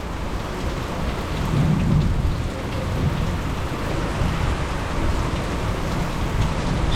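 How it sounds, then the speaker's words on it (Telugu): Heavy monsoon rain pours steadily in the Nallamala forest near Srisailam, with deep thunder rumbling through the downpour; the dense, even hiss holds for the whole stretch and no voices are heard. "My monsoon started with Srisailam thundering rains."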